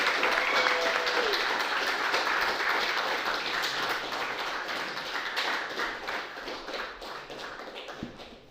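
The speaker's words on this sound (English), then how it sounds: "So please give him a round of applause, Mr. Koji Matsuda." An audience gives a round of applause to welcome a speaker at an indoor gathering, with dense clapping that gradually thins and fades over about eight seconds.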